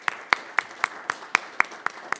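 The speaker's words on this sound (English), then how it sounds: "Can we give them a big round of applause?" A few separate claps for public works staff at a city council meeting, sharp and evenly spaced, thin and fairly quiet rather than a full round of applause.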